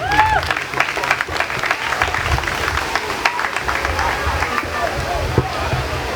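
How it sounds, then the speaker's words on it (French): Audience at a theatre show with slam poetry and music applauds the dancers: dense, steady clapping from a crowd, with voices and whoops mixed in throughout. "je crois que vous allez applaudir fortement."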